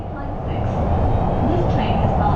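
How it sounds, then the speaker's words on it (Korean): Shanghai subway train in motion, a loud, steady low rumble and rolling rail noise inside the carriage that continues evenly and then cuts off abruptly. "지하철 내부는 깨끗하고 조용하며 안내 방송도 정확해서 이용하기 어렵지 않습니다."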